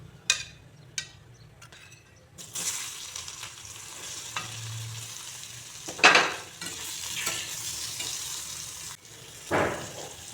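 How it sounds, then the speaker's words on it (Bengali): Potatoes fry in oil in a pan, making a moderate sizzle that shifts with occasional louder bursts and faint clinks of a utensil, with no one talking. "এই তেলে এখন আলুগুলো ভেজে নেব।"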